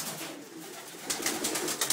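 Young racing pigeons coo softly inside a loft in Puna, Hilo, Hawaii, a close murmur of low calls with a few louder coos toward the end.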